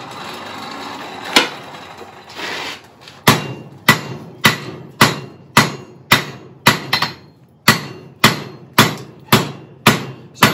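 A blacksmith hammers metal on an anvil while drawing it out into a square taper. A few scattered blows give way to a steady run of loud, ringing strikes about two per second, close and alone.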